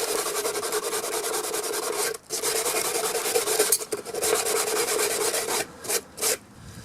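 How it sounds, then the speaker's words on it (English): Cheap sandpaper rubbed back and forth on a Suzuki Bandit motorcycle dash light, a close, continuous rasping scrub with brief pauses near the end, no talking. "Falling apart, the sandpaper. Cheap eBay sandpaper,"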